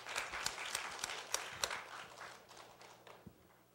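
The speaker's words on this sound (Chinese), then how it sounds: "感谢你的捐款，来掌声" A small audience at a Lions Club charity karaoke event applauding after thanks for a donation, scattered claps with a few sharp individual hits, fading off toward the end.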